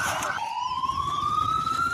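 An ambulance siren wails loud and close, a single rising electronic tone that steps down and then climbs steadily, sounding alone without voices.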